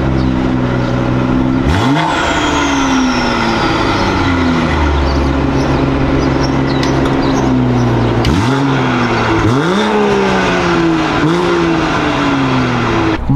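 A 2020 BMW M340i with upgraded exhaust revs hard several times, its loud engine note sweeping up and falling back with popping burbles between blips, close and continuous.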